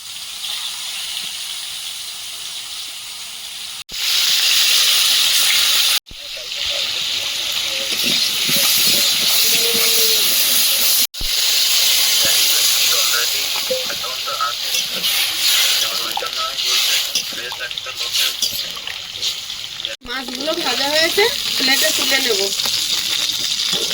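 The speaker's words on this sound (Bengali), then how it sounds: "মাছগুলো ভেজে নেবো" Fish frying in hot oil in a home kitchen, a loud, continuous crackling sizzle and hiss that surges as pieces are turned, with brief cuts and pauses along the way.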